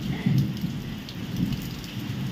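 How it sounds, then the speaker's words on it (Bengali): Heavy rain pours down steadily during a thunderstorm, a dense close roar of water on surfaces with low rumbling swells of thunder beneath it. "দেখো পুরো বৃষ্টি"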